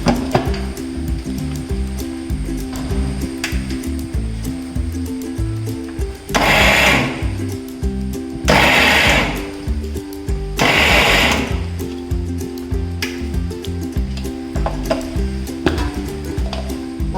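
A kitchen mixer grinder crushes papaya and other thoran ingredients dry, without water, in a steady loud whirring drone broken by three short, harsher bursts of grinding.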